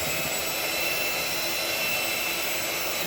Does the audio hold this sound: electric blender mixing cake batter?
yes